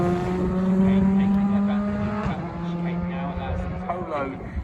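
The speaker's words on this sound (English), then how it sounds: "Polo GTI R5, the legend fires." A Volkswagen Polo GTI R5 rally car on a British national stage rally at East Riding, its engine note loud and sustained as it races past, with commentary talk over it.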